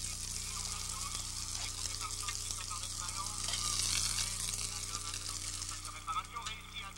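Food sizzles and crackles steadily in a pan in a 1973 film, the frying hiss swelling briefly in the middle, with faint stirring and a low background hum.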